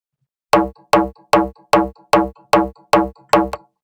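Seven evenly spaced, punchy clicky donk bass stabs, soloed, with a thin, tinny tone and no low end, repeating in a steady rhythm with nothing else playing.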